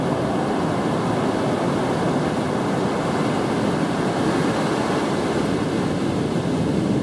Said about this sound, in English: I'd like you to look at the view of the beach